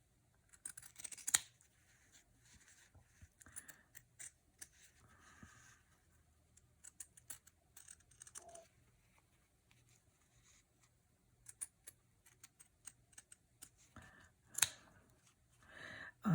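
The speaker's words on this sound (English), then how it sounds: "I'm just going to take my pinking shears, and from the back side, so I can see it well, I'm just going to cut this out" Pinking shears cutting around paper scrap gift tags, giving quiet, intermittent snips and rustles at close range, with short bursts separated by pauses in an otherwise hushed room.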